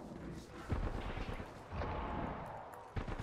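A charge rifle firing in the Apex Legends battle royale game, with a few heavy booming shots over a dense rumbling game mix, fairly loud.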